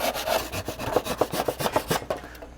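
A hand saw cuts through faux wood beam material in quick, even back-and-forth rasping strokes, about ten in a row, close and clear with no talking.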